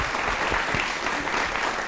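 An audience at a talk on meditation claps together, a dense, steady burst of applause from a crowd that fills the whole moment without any voices.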